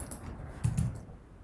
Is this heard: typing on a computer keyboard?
yes